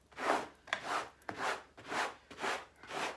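A gadget scraping across fabric in six even back-and-forth strokes, each a close, rasping rub with brief gaps between.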